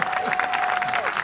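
A concert audience claps for an encore at a Swinging Church performance, a steady crowded patter of applause with faint background voices mixed in.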